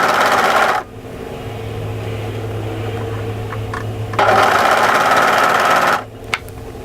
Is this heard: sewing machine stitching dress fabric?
yes